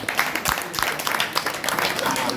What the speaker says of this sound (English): I think that we should clap for you.